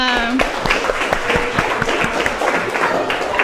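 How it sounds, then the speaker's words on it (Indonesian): A group claps together in steady applause, the many overlapping claps dense and fairly loud throughout. "tepuk tangan untuk kita semua"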